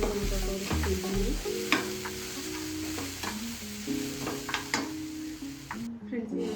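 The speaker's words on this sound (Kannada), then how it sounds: "ಇವಾಗ ಹೇಗೆ ಮಿಕ್ಸ್ ಮಾಡೋದು ಅಂತ ತೋರಿಸ್ತಿದ್ದೀನಿ" Vada ingredients stirred and mixed in a pan, a steady scraping and sizzling texture running throughout, close and fairly loud, with a background of tonal music or voice.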